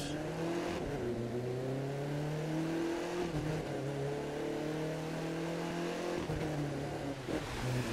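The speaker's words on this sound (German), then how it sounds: "Ist das schlimm, wenn ich mit meinem Audi mal kurz in euren Garten fahre?" A revving Audi engine drives in The Crew 2 racing game, holding steady pitched tones that rise and shift through gear changes, loud and continuous with no talk.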